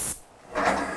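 A paint spray gun sprays primer onto a slick surface: a short hissing burst, a brief pause, then a longer, louder hiss, all heard up close.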